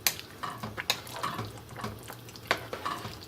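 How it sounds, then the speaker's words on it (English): A spoon stirs chicken vermicelli soup in a pan, producing soft irregular scrapes and knocks with faint liquid sloshing and a light simmer underneath. "Now we're going to give this a quick stir"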